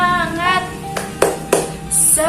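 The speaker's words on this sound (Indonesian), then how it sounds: "Ayo kita bersama-sama melakukan tepuk semangat." A classroom group performs the rhythmic tepuk semangat clapping cheer: three sharp, evenly spaced claps stand out between stretches of sung or chanted voices.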